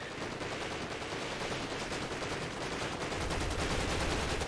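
Sustained automatic gunfire in a military urban-combat video game, a dense continuous rattle of rapid shots that grows slightly heavier toward the end, with no talking over it.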